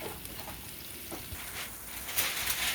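Onions sautéing in a pan while softening for a cheesy broccoli and rice casserole, giving a steady, soft sizzle with occasional faint pops and stirring scrapes, alone with no talk.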